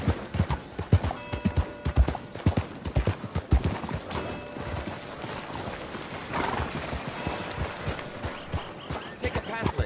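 Horse hooves in the Red Dead Redemption 2 video game beat a fast, rhythmic clip-clop, close and prominent, with a voice briefly spurring the horse on over the galloping.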